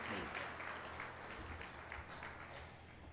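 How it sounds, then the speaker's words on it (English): Steady applause from a crowd, a dense patter of many hands clapping continuously for a few seconds, fairly faint and distant. "So let's give a round of applause to Lindsay and to the advancement team."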